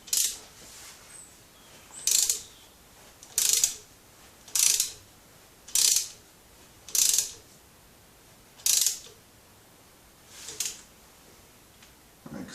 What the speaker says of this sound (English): I'm going to go ahead and tighten it in.